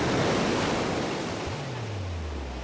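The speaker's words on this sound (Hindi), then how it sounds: "ये सी बीच है" Sea waves wash onto a beach as a steady, broad roar of surf with a faint low wind rumble, close and continuous without any voices.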